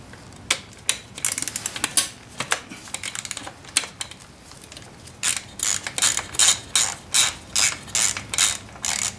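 Ratchet clicking as an 8mm socket turns bolts on a dirt bike carburetor, several close, quick runs of sharp ratcheting bursts separated by short pauses.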